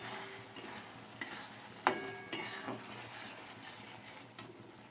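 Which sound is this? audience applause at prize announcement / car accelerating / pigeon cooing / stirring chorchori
stirring chorchori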